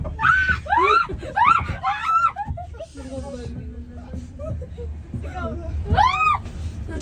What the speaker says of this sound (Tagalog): Sigaw ulit mo, baba.